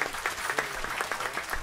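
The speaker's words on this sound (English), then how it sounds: "they deserve another round of applause" Short burst of audience applause at a Sunday satsang gathering at a gurukula, with scattered, fairly quiet claps that run steadily and evenly throughout.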